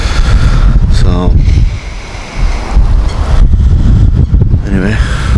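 Strong wind buffets the microphone outdoors at a fishing spot, a loud continuous roar with gusts rising and easing, sounding almost like surf, and a brief faint voice-like tone passing through twice.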